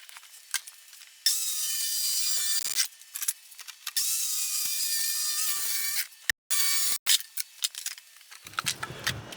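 A piece of wood being cut for a homemade virtual pinball machine leg, with long, steady, high-pitched saw runs broken by brief stops, ending in a few scattered knocks and handling sounds close by.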